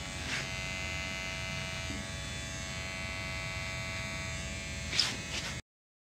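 A Wahl detailer trimmer buzzes steadily for several seconds while a barber cleans up a neckline, a close electric hum with a couple of brief scraping touches before it cuts off abruptly.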